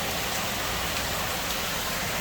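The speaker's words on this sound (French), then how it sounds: "Un peu de la pluie, un peu de l'eau." Light rain falls steadily as a soft, even hiss, fairly faint and close, with no voices over it.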